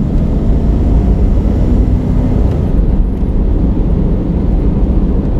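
A Jeep Grand Cherokee ZJ with 247,000 miles revs its engine, giving a dense, loud, steady roar that holds for several seconds with no talk over it.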